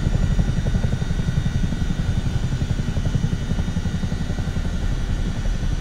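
CH-47D Chinook tandem-rotor helicopter in the flight simulator MSFS 2024, a loud steady engine drone with rapid rhythmic rotor pulsing and a thin high whine running through it, with no talk.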